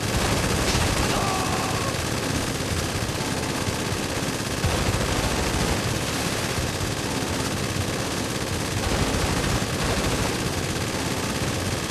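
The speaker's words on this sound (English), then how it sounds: "How many bullets does she have in that Gatling gun? Or that minigun?" Sustained rapid minigun fire in a GTA 5 survival match, a dense continuous roar of gunfire filling the whole stretch, loud and unbroken.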